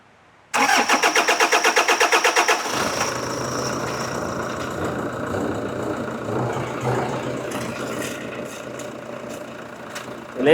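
A car engine is cranked and fires up during steering box repair, the rapid rhythmic cranking turning into a steady running idle that carries on loud and close, with faint clatter over it.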